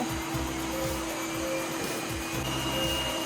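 Yeedi robot vacuum pulling away from its charging base, a steady whirring motor hum with faint repeating mechanical ticks and a thin tonal whine, close and quiet, without speech.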